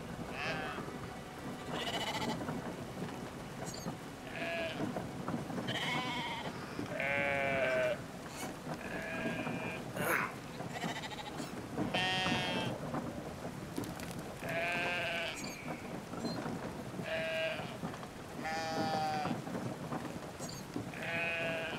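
Sheep in the video game Brothers: A Tale of Two Sons bleat repeatedly, a string of wavering calls every second or two over a continuous rumbling game ambience, with no speech.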